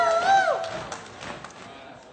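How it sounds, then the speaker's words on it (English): At a live podcast event before an audience, a short rising whoop rings out at the start, then fades into faint scattered cheering and murmuring from the crowd. "give me a whoop and cheer."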